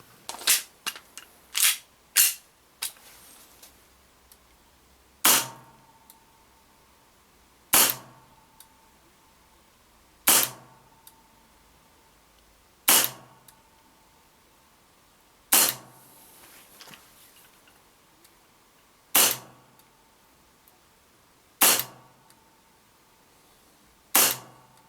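An Armorer Works Hi-Capa airsoft pistol fires 0.2 gram BBs on green gas through a chronograph, sharp snapping shots: a quick cluster of five at first, then single pops spaced about every two to three seconds.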